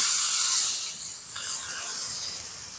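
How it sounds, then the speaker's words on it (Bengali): Water sprinkled onto a hot, oiled tawa bursts into a loud spraying hiss that fades and then lingers as a softer, steady sizzle. "ভালো করে তেল বুলিয়ে নেওয়ার পরে একটুখানি জল ছিটিয়ে দেব"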